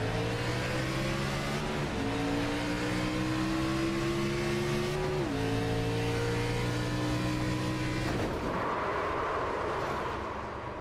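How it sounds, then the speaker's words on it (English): Race car engine held at full throttle in a racing video game's Xfinity Series race, a loud sustained roar that rises in pitch, dips sharply at shifts and fades into rumbling road noise near the end. "I never heard that engine come off of it at all."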